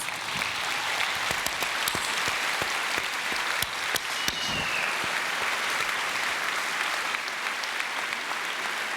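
Steady, sustained applause from a large audience, dense clapping filling the room throughout without pause.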